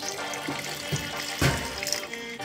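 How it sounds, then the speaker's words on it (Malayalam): Vinegar poured into a thick-bottomed pot while making a papaya sauce, a soft splashing liquid pour with a stronger gush midway, fairly close and heard alone without talk. "ഇതിനായി കുറച്ച് വിനാഗിരി ഇതിലേക്ക് ഒഴിക്കാം."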